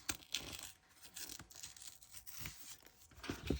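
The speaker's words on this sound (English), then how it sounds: "So if I go up here maybe, and I just rip." Thick art paper torn by hand in short rough rips, close and fairly quiet, several tearing bursts spread across the moment with no talking.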